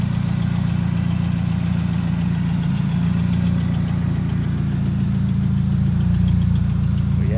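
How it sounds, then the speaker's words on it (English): Chevrolet Cobalt engine idling steadily close by, with ticking from a leaking exhaust header running through the low rumble. "That ticking noise is because it has a leak in the header that I haven't fixed"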